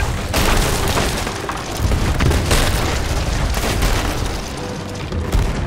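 Ship cannons fire in a heavy naval battle in the pirate video game Sea of Thieves, a loud continuous roar of booms and blasts that keeps swelling and overlapping, with no clear gaps between shots.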